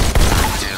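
Gunfire in Robo Recall, a VR shooter played on an Oculus Rift, comes through as a loud, abrupt burst of shots with a sharp crack near the start.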